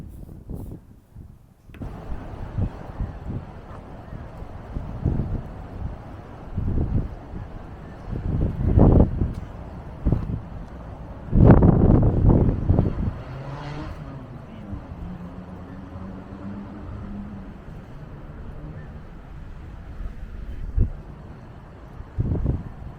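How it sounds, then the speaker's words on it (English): Gusty wind blows outdoors along the old streets of Rochester, buffeting the microphone with rough low rumbles and swelling in irregular bursts over a steady rushing background. "Bit drafty, love. It is, yes. Very windy."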